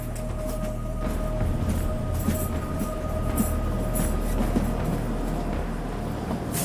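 A train rumbles along a railway in India with a steady low roar, rattling cars and faint clattering wheels, heard from close by.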